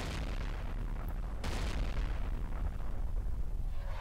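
American M40/43 artillery in World of Tanks fires a shell: a deep rumbling boom within a dense battle din that carries a further burst midway, loud and sustained throughout.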